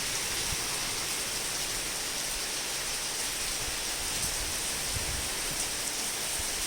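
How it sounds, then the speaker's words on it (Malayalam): Steady, dense rain pours down during a brief storm with strong wind, a continuous close hiss of drops on surfaces with no voices. "മഴയാണല്ലേ മഴ"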